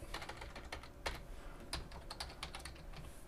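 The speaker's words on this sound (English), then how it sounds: "So we'll hit enter" Rapid keystrokes on a computer keyboard while a folder is renamed for a Maix M5StickV setup, a quick burst of clicking taps in close succession with a couple of louder strikes near the end, no talk.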